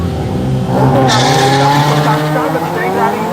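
Drag racing car launching off the line at a Killarney strip in Cape Town, a loud engine roar with tire squeal that rises sharply then settles into a sustained, close rumble.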